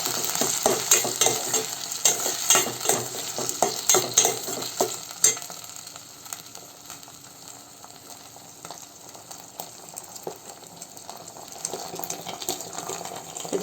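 Baby corn for Manchurian is tossed with soy sauce in a pan, with repeated close scraping stirs over a light sizzle that are busy at first and then settle into a quieter sizzle with occasional stirs.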